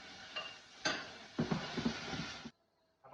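Pineapple cooking in caramel in a pan, with soft sizzling and a few scraping, stirring clinks over about two and a half seconds, then a brief near-silence before the sizzle returns.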